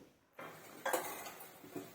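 A lid set onto a clay cooking pot of simmering tamarind fish stew, one brief ceramic clink and scrape followed by a softer knock, close by in a quiet kitchen.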